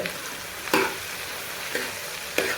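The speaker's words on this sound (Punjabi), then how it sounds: "ਫਿਲਹਾਲ ਇੱਕ ਪਾਸੇ ਭੁੰਨ ਰਹੀ ਹਾਂ ਮੈਂ ਪਿਆਜ਼" Onions fry with a steady sizzle in a pan while a spoon scrapes through them in three distinct stirring strokes, close and moderately loud, with no voices.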